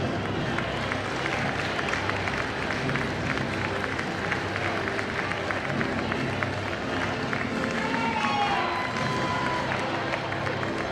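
Crowd at a county academic decathlon super quiz applauds a school, a dense, steady wash of clapping from a large audience lasting throughout, with a few voices and shouts mixed in.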